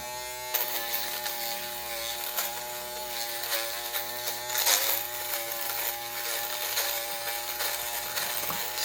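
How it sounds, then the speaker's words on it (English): An M Black dual foil electric shaver buzzes steadily close by as it cuts facial hair, its tone wavering slightly as it moves over the skin. "let's quickly do some shaving, see what's going on"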